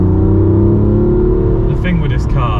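A BMW M2 Competition is driven hard along a twisty B road, its engine droning loud and steady from inside the cabin while a person talks over it.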